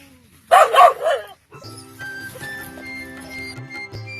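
Guard dogs in a mango orchard let out a quick, loud cluster of barks near the start, followed by quieter background hum and faint sounds.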